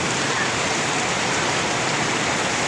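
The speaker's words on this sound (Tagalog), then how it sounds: "Ayan, bumuhos naman ang napakalakas na ulan." Heavy rain pours down steadily in a dense, unbroken hiss that fills the whole stretch, loud and close with no other sounds standing out.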